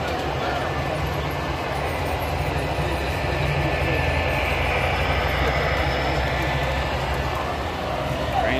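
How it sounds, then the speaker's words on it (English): A portable multi-level model railroad set up outdoors at a town ice cream social, its trains giving a steady continuous rumble and whir with a broad outdoor background throughout. "One of them is this model railroad here."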